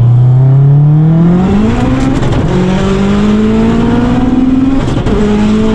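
A Subaru STI running 45 psi of boost accelerates hard in second gear, its engine roaring loud and close as the pitch climbs steadily across the pull.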